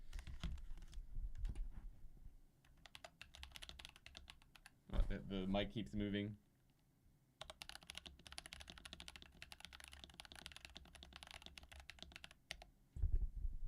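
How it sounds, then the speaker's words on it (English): Rapid, clicky keystrokes on a computer keyboard, fairly close, with a brief spoken remark and a pause partway through. "This is my upstairs keyboard, and it's a bit clicky."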